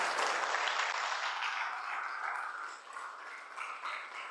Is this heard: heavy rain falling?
no